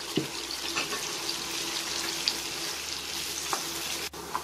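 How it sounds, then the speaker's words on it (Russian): Meat and half-ring slices of a small onion frying in a pan, a steady close sizzle with faint clicks of stirring running throughout, no talk. "теперь добавляю одну небольшую луковицу, нарезал на полукольца. И где-то минутки 3 обжарю с луком."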